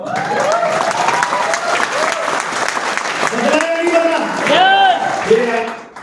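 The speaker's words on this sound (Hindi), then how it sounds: "आप बजाओ ताली।" An audience at a Vestige business seminar claps loudly and continuously for several seconds, with the rhythmic clapping rising toward the end as someone talks over it through a microphone.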